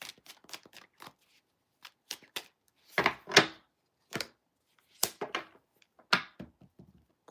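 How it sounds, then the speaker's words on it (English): Tarot cards are shuffled in short, crisp bursts of riffling and slapping, with irregular pauses between the quiet close-up flurries. "Three more shuffles."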